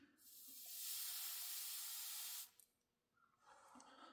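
Soldering iron set to 480 pressing steam into a dent in the body of a Fender Stratocaster guitar, giving a steady loud hiss for over two seconds that cuts off abruptly, followed by a softer, shorter hiss.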